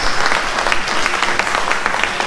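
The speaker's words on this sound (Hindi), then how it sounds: "हमारे दोनों सिंगर्स के लिए एक बार जोरदार तालियां बनती है प्लीज" Audience at a corporate annual day event applauds two singers after a Hindi film song, a dense wash of steady clapping at close range with no speech.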